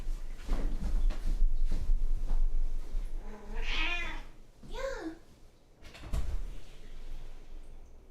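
A cat meows a couple of times, drawn-out and close, amid soft handling noises and bumps.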